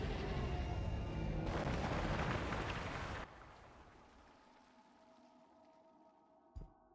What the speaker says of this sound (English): Time to detonate it.